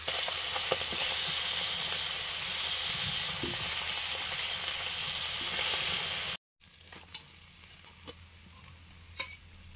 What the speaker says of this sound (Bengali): পুকুরের টাটকা টাটকা চারা মাছ কম ভেজেই তুলে নিচ্ছি